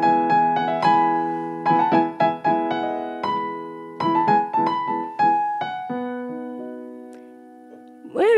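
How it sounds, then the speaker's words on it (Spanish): Orchestral strings play Vivaldi's Sinfonia de la Fortuna from the opera Il Giustino, crisp repeated chords and a running melody that fade toward the end before a brief swell. "la ópera Il Giustino, y su Sinfonía de la Fortuna suena algo así"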